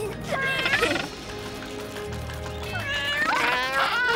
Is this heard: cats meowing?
yes